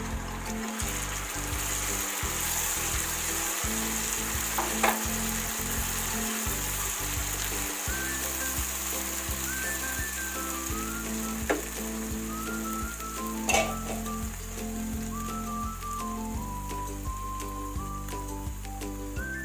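Chillies sizzle and crackle steadily in hot oil with light-browned garlic for Schezwan sauce, a continuous frying hiss with soft music playing underneath.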